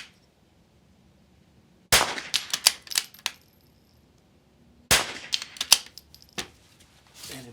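Two bursts of sharp, echoing cracks from .22 rifles at an NRL22 match on an outdoor range, each burst a quick string of several shots separated by a quiet pause, fairly loud and close, with no voices.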